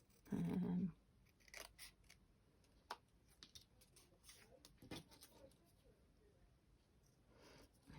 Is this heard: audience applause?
no